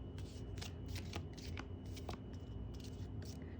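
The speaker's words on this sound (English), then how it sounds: "Let's shuffle again." Tarot cards being shuffled by hand, a series of quick papery riffles and flutters in close succession, soft and near over a low background hum.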